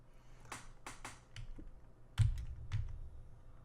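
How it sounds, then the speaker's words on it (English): Computer keyboard keys struck in a quick run of sharp, close clicks while a polygon model is edited, with a heavier thump near the end; nobody talks. "I'm going to hit the keys."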